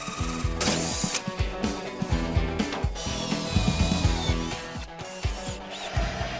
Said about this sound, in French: on va faire un trou à la scie-cloche